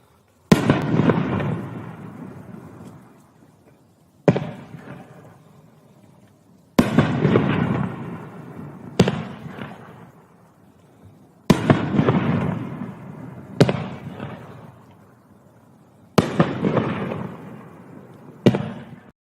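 A Wheel in the Sky firework cake fires big, loud shots, each booming hard and then crackling and fading over a second or two, spaced unevenly with no talking.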